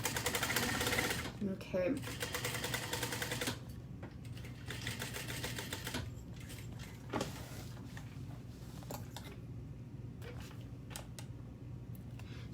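Sewing machine stitching fabric for an Annette sew-along garment, bursts of rapid mechanical chatter in stops and starts, loudest at first, with a brief spoken word in between.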